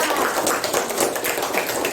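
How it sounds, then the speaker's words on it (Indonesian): A burst of many children's hands clapping together in a classroom, a busy, uneven patter of applause lasting a couple of seconds, close and fairly loud. "tepuk tangan untuk Aira."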